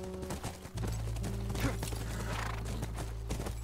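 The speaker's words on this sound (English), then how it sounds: "That's our horse." A horse in the video game The Last of Us: soft hoof clip-clops and a brief whinny, fairly quiet under a steady low hum of game music.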